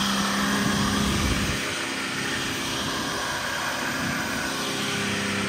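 A Dodge engine running on engine oil in place of gasoline, revved in neutral, gives a loud, steady, broadband roar that holds at a constant level throughout.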